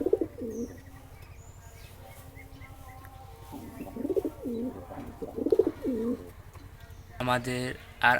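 Domestic pigeons, including birds from 2019, coo repeatedly in soft, low, rolling phrases nearby. Someone talks over them throughout.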